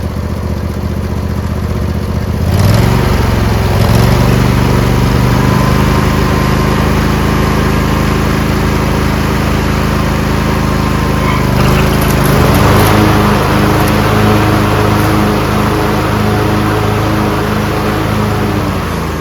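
Craftsman LT1000 lawn tractor engine running at a high idle, a steady droning hum that holds close and loud throughout with a slight shift partway in.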